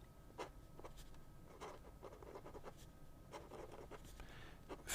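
Waterman 52.5 vintage flex nib fountain pen writing on paper, a quiet close scratching of strokes in short irregular bursts, faint and without talk.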